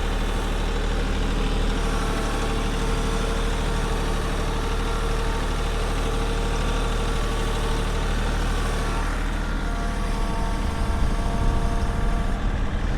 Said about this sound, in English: we've got the tractor there right over the center of the row.